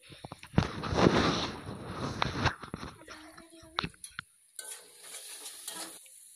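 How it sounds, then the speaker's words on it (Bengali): Ground spices and tomato fry together in a pan for a village-style chicken curry, with a loud sizzle, scraping spoon strokes and sharp crackles, then quieter intermittent stirring and spitting oil. "দিয়ে সমস্ত মশলা ও টমেটো একসাথে ভেজে নেবো ভালোভাবে।"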